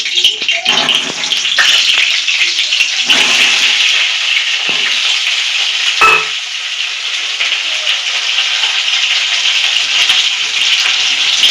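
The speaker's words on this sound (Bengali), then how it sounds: "এবার আলুগুলো ভেজে নেব" Potatoes dropped into hot oil in a wok, giving a loud, steady sizzle and crackle that carries on throughout with a few stirring bumps, and no talk.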